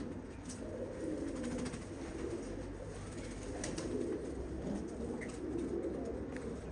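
Pink Ardiyozo pigeons coo softly in a low, continuous murmur at a live bird auction, faint and steady with no talk over it.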